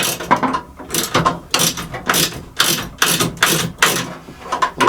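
An adjustable wrench works a nut loose on a NordicTrack elliptical's incline motor, giving repeated rhythmic metallic ratcheting strokes, close and fairly loud, about eight bursts over several seconds.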